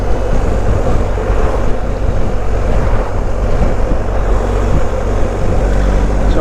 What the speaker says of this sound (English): It's certainly windy today.